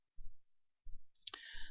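A single crisp mouse click sounds close and clear, set between a few soft, low thumps in an otherwise quiet room.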